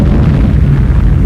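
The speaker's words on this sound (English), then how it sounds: "the sounds of cannons and mortars signaled the beginnings of the American Civil War" Cannon and mortar fire from the American Civil War, heard as a dense, loud, rumbling boom that sustains low and heavy without a break for just over a second.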